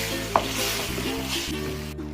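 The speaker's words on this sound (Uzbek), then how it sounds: "Seli chiqishi bilan svetofor bolgarskiy qo'shib, bor yo'g'i 2 minutgina qovuramiz." Bell peppers fry in a pan of tomato juices with a loud, steady sizzle. A quick stir adds a scrape over a short stretch, and tonal background sound plays along.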